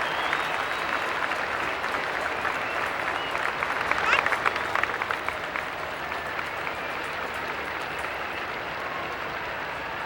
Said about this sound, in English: the crowd, some people getting to their feet, cheering for the Queen